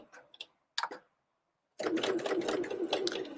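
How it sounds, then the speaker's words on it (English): A domestic sewing machine stitches a jacket dart, with a few short clicks and bursts at first, then a steady close, continuous whirring run of stitching. "So I'm just going to go forward a couple stitches, maybe, and then back."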